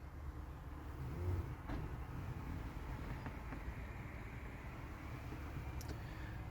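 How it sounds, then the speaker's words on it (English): Road traffic beside a big car park in northern UK, a steady distant rumble of passing cars with a faint swell as one goes by, no voices. "there are a lot of cars on the road"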